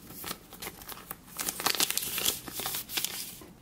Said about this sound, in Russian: предлагаю открыть вот такие вот интересные и яркие сюрприз-пакетики